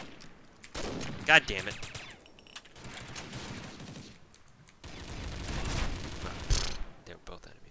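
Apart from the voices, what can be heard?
gunfire from Combat Arms video game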